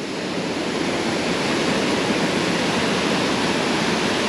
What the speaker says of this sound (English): Past the gorgeous waterfall.